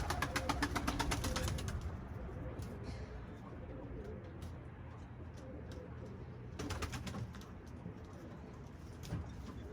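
Pigeons in a flock outdoors coo softly and steadily under a busy background, with bursts of fluttering wing rattles near the start and again toward the end.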